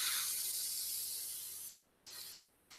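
Spray gun hisses in long bursts while black paint is applied to tiles along a taped edge, one sustained spray fading out, then two shorter blasts after pauses.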